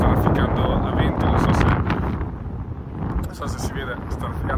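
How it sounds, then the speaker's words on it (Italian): Strong, gusty wind roars across the microphone during a wingfoiling session on the water, a loud, broadband rush that swells and drops in uneven gusts throughout. "in maniera inaspettata è arrivato il vento, anche troppo rispetto a quello che chiedevo io"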